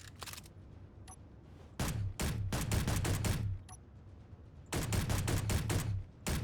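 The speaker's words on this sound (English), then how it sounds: "I'm just going to shoot off this pistol and see how much recoil it does when standing." Pistol shots in the Space Engineers video game, fired as rapid volleys of several sharp, loud cracks in two main bursts with a couple of faint isolated shots between.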